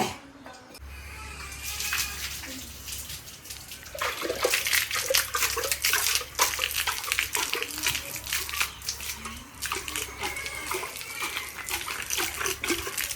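Vessels are scrubbed and rinsed with running water at a village home at night, a loud, continuous splashing and clattering wash with brief pauses, while people talk faintly in the background.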